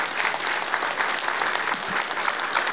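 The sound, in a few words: audience applause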